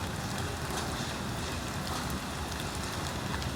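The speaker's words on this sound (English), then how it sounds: "Sounds like the rain's starting to pick up a little more." Rain falls steadily in a city at a moderate level, a dense even hiss with soft patter and some wind noise, with no voices.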